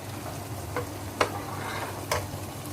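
Rice for Punjabi chana biryani stirred and mixed in a pot, a low steady simmer with a few sharp scraping clinks of the spoon spaced out, quiet and close, no voices.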